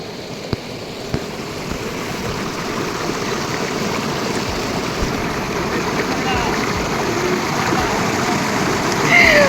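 Cold mountain stream water flows steadily, with broadband rushing and gurgling along a river on the way from Rishikhola, continuous and fairly close throughout.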